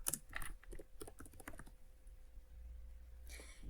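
Quick clatter of typing on a computer keyboard as a comment is entered, a fast burst of close, light key taps followed by a quieter pause and a few more keystrokes.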